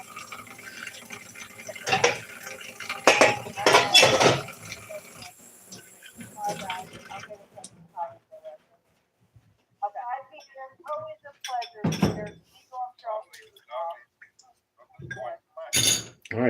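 Silverware clinks and clatters in bursts, loud and close at first, then sparser sharp clinks among quieter handling noises.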